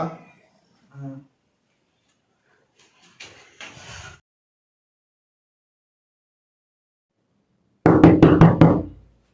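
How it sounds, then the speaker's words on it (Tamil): Rapid knocking on a door in a horror series, a loud burst of about six sharp raps near the end, after quieter scattered taps and thumps earlier amid long silence. "டேய், அந்த கதவு தட்டுற சத்தம் கேக்குது."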